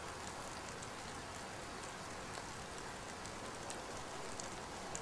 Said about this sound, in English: It's always this rainy sound now.